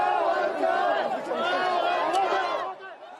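Hundreds of supporters crowd around a Taiwanese politician in the afternoon heat, a dense, close wash of overlapping voices and excited chatter that eases slightly at the end.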